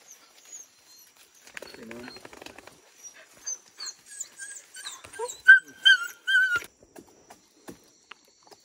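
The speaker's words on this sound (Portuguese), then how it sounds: "Estamos só reunindo as cachorradas aqui." Hunting dogs gathering in the Amazon forest after a wild pig hunt, giving soft whimpers, yelps and panting in short bursts, fairly close, with people talking nearby.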